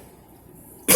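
A single loud, harsh cough bursts out abruptly at the very end after near silence, close to the listener.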